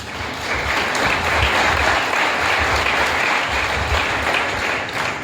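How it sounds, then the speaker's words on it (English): A large audience applauds steadily during a talk in Kerala, India, a dense, continuous wash of many hands clapping at close range that holds strong throughout with no speech over it. "You started the applause."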